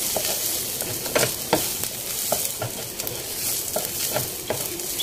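Rice is stirred in a hot pan to make pop rice, giving a steady sizzle with repeated scraping strokes of the spatula at a regular rhythm, close and clear.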